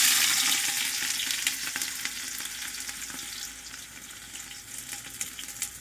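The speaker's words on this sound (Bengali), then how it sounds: "গরম হয়ে গেছে, এর মধ্যে লঙ্কা কুচি আর পেঁয়াজ কুচি দিয়ে দিচ্ছি।" Chopped onion and green chilli sizzle steadily in hot oil in a home kitchen pan, a bright continuous frying hiss that settles slightly quieter over time, with occasional stirring and no talk.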